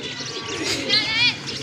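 A pigeon perched on a trapping net coos briefly, a soft burst of calls heard close over steady outdoor background noise.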